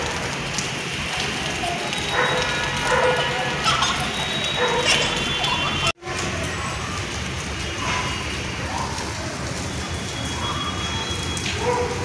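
Steady rain patters down outdoors near a garden where children play, a dense continuous hiss with a brief dropout midway and no speech.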